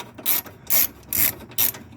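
A hand ratchet loosens the battery bracket bolt on a 1999 Chrysler Sebring convertible, four distinct bursts of rapid clicking pawl strokes at a steady rhythm, close up and clear with no talking.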